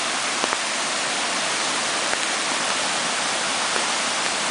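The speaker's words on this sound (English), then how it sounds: "the volume of water that's coming downhill right now" Floodwater rushing downhill through a normally narrow creek in Duluth, a loud, steady, broadband roar with no pauses, close by and filling the whole scene with a few faint knocks in the torrent.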